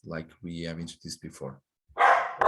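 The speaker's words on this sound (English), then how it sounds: "Sorry about my dog." A pet dog barks in a short loud burst right after a stretch of talking, cutting in close and alone once the voice stops.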